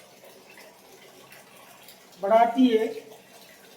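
A Kangen water ionizer machine runs water from its outlet in a short burst of about a second. Quiet talk comes before it, and a brief spoken phrase is heard.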